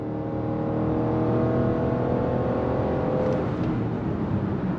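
A 2022 Lexus RX 450h hybrid SUV accelerating on the highway, a steady close engine and road hum with a rising whir that holds even throughout, with no talking.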